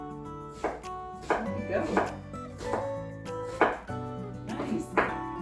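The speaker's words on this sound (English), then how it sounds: "now that we have our onions chopped up here" Onions being chopped with a knife for a smoked sausage casserole, a series of sharp blade thunks on a board in irregular bursts, close and clear, with a brief spoken remark partway through.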